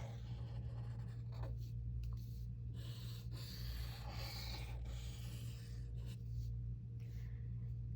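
A pencil scratches across paper while sketching a simple vase, in close, quiet strokes that come in short bursts with brief pauses between them.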